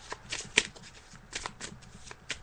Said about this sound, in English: So I'm just shuffling the cards now, Mary.